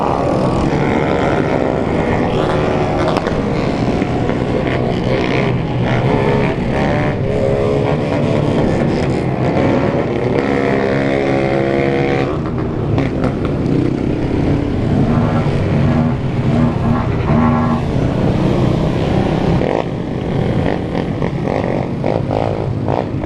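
Big crowd of 160cc motorcycles riding together through a neighbourhood in São Paulo's east zone, a loud, dense, continuous roar of many engines with revving and shifting pitches passing close by.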